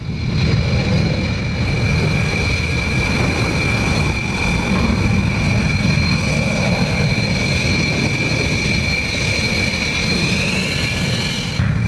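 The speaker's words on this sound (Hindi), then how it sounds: "ये जो पेड़ के ऊपर आपको जाता नजर आ रहा है, ये पाकिस्तानी फाइटर है" Fighter jet flying over trees near the border, a steady broad roar with a sustained high whine, continuous and moderately loud for the whole stretch, with no voices.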